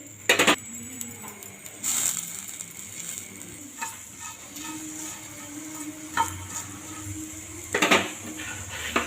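Green beans stirred while frying crisp in a pan with masala, scattered clanks and scrapes of a utensil against metal over a low continuous sizzle, with louder clatters at intervals.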